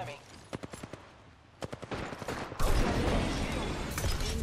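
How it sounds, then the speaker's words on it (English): Apex Legends gunfire: a string of sharp single shots, then sustained rapid automatic fire roaring close and loud to the end, with a voice speaking over it. "Opening fire on the enemy."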